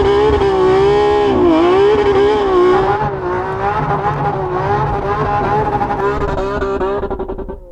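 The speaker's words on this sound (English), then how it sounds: "I'm just going to quickly drive it there to warm up my tyres" A supercar engine drones steadily and loud as the car drives to warm its tyres, its pitch rising and falling with throttle changes before fading slightly at the end.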